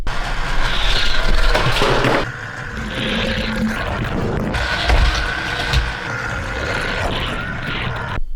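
A 3D-printed camera car carrying an Insta360 Go3S is shot along a Hot Wheels track by a powered booster set to 3 volts, giving a steady mechanical whir with rattling passes and bursts, loud and close throughout.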